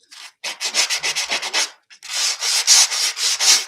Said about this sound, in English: This is a sponge sanding pad.